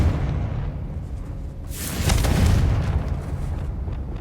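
A Confringo blast spell goes off in Hogwarts Legacy, a single booming burst partway through that swells out over a low rumbling backdrop of game ambience, with no talking.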